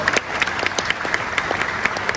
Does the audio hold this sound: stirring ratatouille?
no